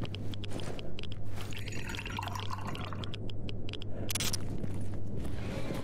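Water pours and splashes continuously in the video game S.T.A.L.K.E.R. Anomaly, with a constant low hum underneath, steady and fairly close, with a brief brighter splash near the end.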